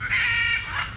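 A bird gives one sustained, nasal squawking call at close range, lasting about a second, with no voices around it.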